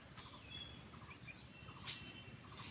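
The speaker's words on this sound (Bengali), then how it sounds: "পাখিদের কিচিরমিচির" Birds chirping in a calm rural setting with no traffic, a few faint, scattered high calls over a low steady background, and one brief louder chirp near the end.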